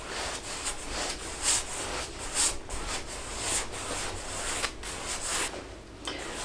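A brush applies a thin, even layer of Gamvar varnish across an oil painting, producing steady, close rubbing and scraping strokes with a soft, repetitive rhythm, no voices.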